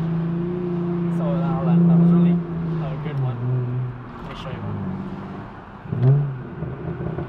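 Hyundai Genesis Coupe 3.8 downshifting with a rev match, the engine note rising in a quick blip and then settling, heard up close inside the car while someone talks over it.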